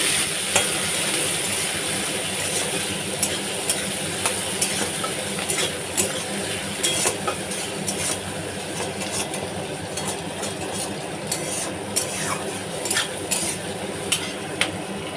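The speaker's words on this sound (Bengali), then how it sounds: "পেঁয়াজটা একটু ভেজে নিই" Onion frying in a pan while being stirred, a continuous soft sizzle with scattered clinks and scrapes of a utensil against the pan, close and moderately quiet, with no talking.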